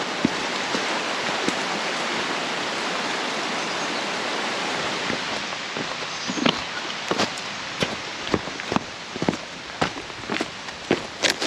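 Christmas Creek flowing on a hiking trail, a steady broad rush of water close by, with crunching footsteps joining in the later seconds.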